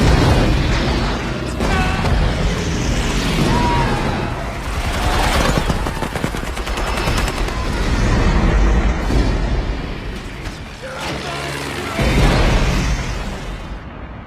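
Repeated heavy booms and blasts rumble through a dense, chaotic wash of noise, like bombs exploding over several seconds with crackling bursts in between, in a Vietnam War film.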